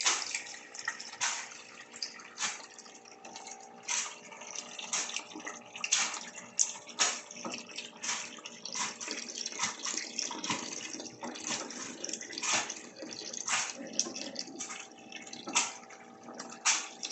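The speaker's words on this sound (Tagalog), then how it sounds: "mag-change water muna tayo." Water being changed in a betta fish tank, with steady splashing and trickling as water is drawn out and poured back in, broken by repeated short sloshes and drips at close range.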